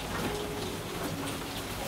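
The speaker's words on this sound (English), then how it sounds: "it's raining outside" Steady rain falls outside a cabin, a dense, even hiss of drops on surfaces that runs unbroken and fairly loud throughout, with no voices.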